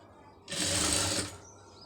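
A tailoring sewing machine stitches invisible piping onto cloth in one short, close burst of steady mechanical whirring lasting under a second, with quiet before and after.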